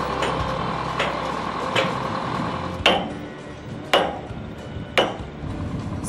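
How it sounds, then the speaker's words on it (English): Old-fashioned sledgehammer blows on a historic bridge under restoration, three sharp metallic strikes about a second apart standing out over a steady wash of worksite machinery noise. "sometimes the best tool is an old-fashioned sledgehammer"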